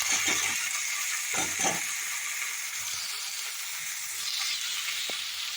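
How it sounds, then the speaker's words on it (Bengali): Chopped vegetables hit a hot pan for fried rice and set off a loud, continuous hissing sizzle, with a few soft thumps and clatters near the start as they are added. "এবার কেটে রাখা সবজিগুলো আমি এর মধ্যে দিয়ে দেবো।"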